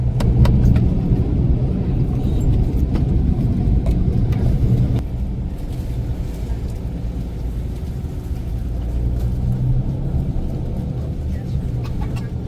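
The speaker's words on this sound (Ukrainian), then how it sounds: "Це мій автобус." A tour bus at a roadside stop near a McDonald's gives a steady, close engine rumble. The rumble drops to a lower, quieter level about halfway through and continues evenly to the end.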